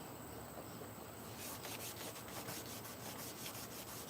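Sandpaper scrubbing paint off the front bumper of a car being prepped for a wrap, a continuous close gritty rasp with quick repeated back-and-forth strokes in the second half.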